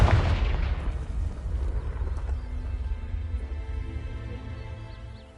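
Confringo blasting spell in Hogwarts Legacy, a sharp explosive boom at the start followed by a long rumbling, crackling tail that slowly fades.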